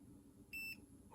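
A single short electronic beep from a Nintendo DS Lite, thin and high-pitched, sounds briefly over a faint low hum in an otherwise quiet room.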